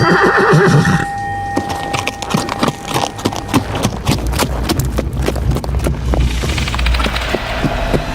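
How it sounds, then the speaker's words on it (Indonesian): A horse-drawn andong carriage opens with a horse's neigh and a ringing bell tone, then brisk, close hooves clop steadily on hard ground, loud and rhythmic to the end. "Terdengar suara lonceng andong dan derap langkah kuda."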